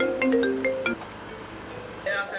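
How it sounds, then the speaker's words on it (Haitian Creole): A mobile phone ringtone plays a short melodic phrase nearby, then fades into background noise, with brief bright tones returning near the end. "Oh, mais téléphone m'a sonné"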